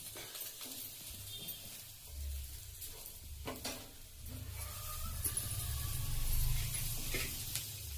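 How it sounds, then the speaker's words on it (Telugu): Pav bread toasting in butter in a hot pan, a soft, continuous close sizzle with occasional scraping and clinks from stirring, building slightly toward the end, with no speech. "ఇప్పుడు ఈ బటర్లో పావును కాల్చుకోవాలి."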